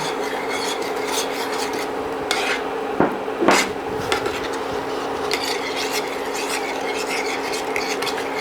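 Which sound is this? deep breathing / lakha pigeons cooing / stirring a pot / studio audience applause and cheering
stirring a pot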